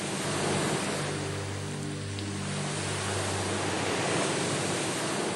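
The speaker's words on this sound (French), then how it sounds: "Les vagues sont de plus en plus lourdes," Heavy ocean surf pounds a lagoon island shore in Kiribati, a loud continuous roar of breaking waves and rushing water with a deep low rumble beneath, no voices.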